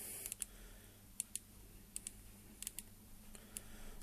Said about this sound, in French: On appuie sur le scroll et on choisit les lettres.